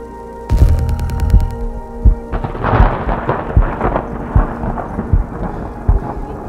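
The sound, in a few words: thunder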